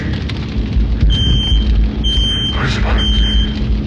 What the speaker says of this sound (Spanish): explicando así la activación de la alarma